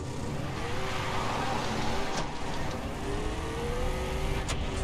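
A buggy engine in the video game Far Cry 3 drones steadily as the vehicle drives, with a continuous, even hum and slight pitch rises throughout.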